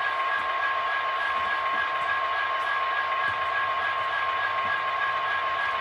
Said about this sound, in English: Couple SD-70s, getting all warmed up.